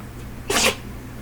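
A single sharp sneeze bursts out briefly and close by over a quiet room hum.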